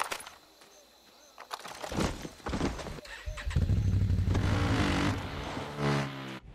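A motorcycle engine in the video game Far Cry 6 starts up and revs, building from sputters into a loud, sustained droning roar with a few surges near the end.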